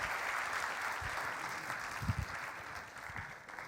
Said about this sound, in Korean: 우리 다시 한번 수고하신 장로님들에게 2배로 뜨거운 박수